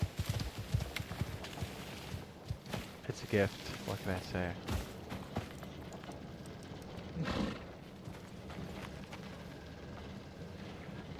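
Horse hooves clip-clop in the Icarus video game, a steady trotting patter running under a voice and a noisy, windy ambient bed.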